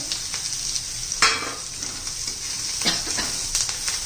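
Dried spice mix of fennel, cumin, chili powder, turmeric and coriander powder tipped into green chilies frying in oil for Marwari mirchi tipore, a steady close sizzle with a sharp hiss burst as the spices hit and occasional stirring scrapes.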